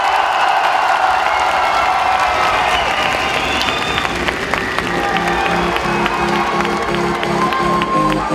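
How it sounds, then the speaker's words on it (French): A convention crowd at Polymanga 2016 breaks into loud applause and cheering, sustained clapping with whoops and shouts layered over it, while a few voices and some musical tones rise through the din. "un tonnerre d'applaudissements pour Mathis Sommer"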